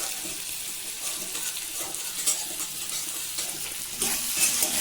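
Village-style Bengali cauliflower curry with salt, turmeric, coriander and cumin powder and melted tomato sizzles in a pan. It gives a bright continuous hiss with soft, irregular stirring scrapes and a louder surge near the end.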